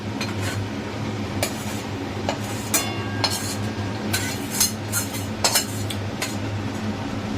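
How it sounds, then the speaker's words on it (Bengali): A spatula scrapes and clinks against a metal wok while eggplant mash is stirred, irregular metallic taps and scrapes repeating close by over a steady low hum, with no talking. "এটা ছোট কড়াই তো নাড়তে অসুবিধা হচ্ছে বড় কড়াইটাতে বসিয়ে দেবো"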